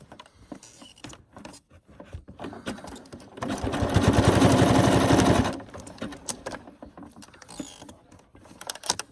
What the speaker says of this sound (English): This is my main machine, and this is the main machine that I sew for everything.